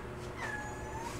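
A mother cat gives one drawn-out meow with a falling pitch. It is quiet and sits over a low background rumble.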